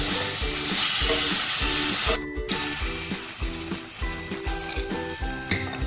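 Masala being sautéed in oil for a thin katla fish curry with taro stems gives a steady, moderate sizzle. Rhythmic background music plays throughout, and no one speaks.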